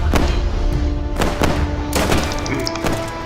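Gunfire in a Roblox World War 1 battle game: several loud, sharp shots at irregular intervals, some in quick pairs, over a steady low rumble of battle. No one speaks.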